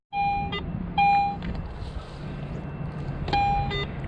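A Garrett AT Pro metal detector sounds a low signal tone while metal detecting on a San Diego hillside, three short steady beeps spaced apart over faint outdoor background.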